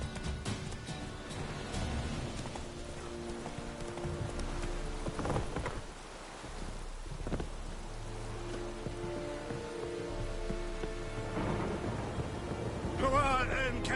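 Geralt's horse Roach clip-clops steadily through The Witcher 3, a video game, the hoofbeats blended with a rain-like hiss and a busy background, with voices nearby.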